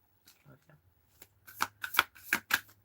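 A deck of cards is shuffled in quick riffling bursts, several sharp rustling flurries in a row growing louder, after a few softer shuffles at the start.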